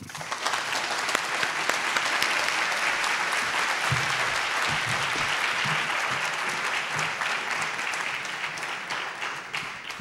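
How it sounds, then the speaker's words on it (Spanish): An audience applauds to welcome a speaker onto the stage at a seminar, a dense, steady wash of clapping that carries evenly through the whole stretch without pause. "le damos un gran aplauso"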